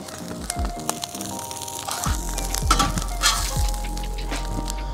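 Steak and eggs sizzle on a 17-inch Blackstone griddle outdoors, a steady hiss broken by metallic spatula scrapes and clinks during flipping.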